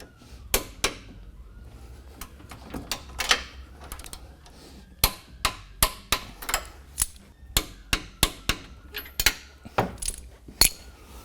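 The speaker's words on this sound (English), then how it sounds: "these are 12mm bolts, so make sure that you torque them to 95 foot-pounds." A torque wrench tightens 12mm bolts to 95 foot-pounds while a toe link support is fitted. Sharp, close metallic clicks come in scattered bursts, then settle into a steadier series of ratcheting snaps.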